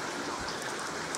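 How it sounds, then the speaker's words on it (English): Heavy rain falling outside, a dense continuous hiss of drops pattering on surfaces, steady and fairly close, with no voices. "I can do nothing outside because it is raining like this."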